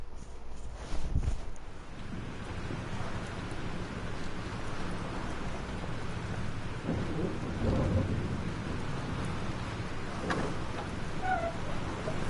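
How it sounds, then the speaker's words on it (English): A thunderstorm with steady heavy rain in the video game Life Is Strange, a rumbling thunder crack near the start and continuous dense rain hiss throughout, alone without talk. "This storm is real."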